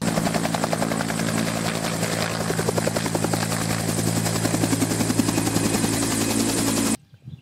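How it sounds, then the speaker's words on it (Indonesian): A toy helicopter's rotor whirs steadily at close range, a dense buzzing drone with a fast chopping pulse, stopping abruptly near the end. "Helikopter, teman-teman."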